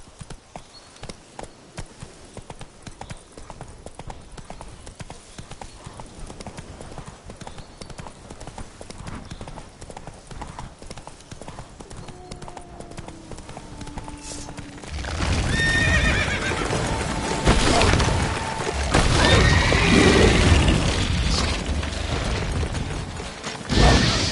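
Roach the horse in the Witcher 3 video game trots with rhythmic hoof clip-clops, then breaks into a louder gallop halfway through, with a few whinnies and neighs and mechanical clicking mixed in.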